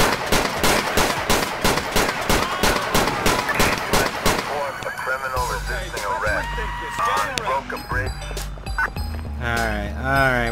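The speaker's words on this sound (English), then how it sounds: "we got an officer involved shooting here" Rapid gunfire in a GTA 4 police shootout, loud and dense, with fast repeated shots that give way to a mix of game noise and a siren-like wail.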